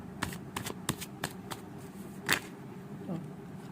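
Tarot cards are shuffled and drawn in a quiet room, producing soft, irregular riffles and crisp flicks close by, spaced out across a few seconds.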